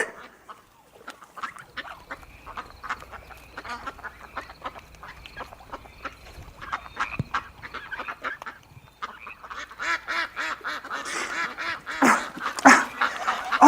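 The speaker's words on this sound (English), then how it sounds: "What am I, a duck?" Ducks quack and honk in a busy flock, starting sparse and growing denser and louder toward the end, with overlapping calls close by and a faint low rumble underneath.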